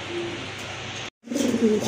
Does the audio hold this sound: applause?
no